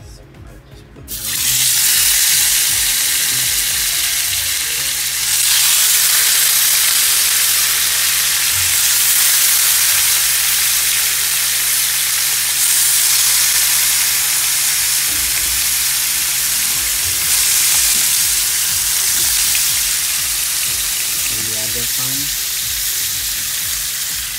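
Mayamaya fish frying in very hot oil, a loud, steady broadband sizzle that starts after a brief quiet moment and holds for the full length, with faint clinks and small bursts of crackling.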